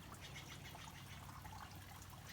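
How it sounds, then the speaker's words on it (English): Garden fountain at an arboretum trickling slowly, a faint continuous splash and dribble of water with soft bright hiss, steady throughout with no voices. "This fountain's running a little bit slow."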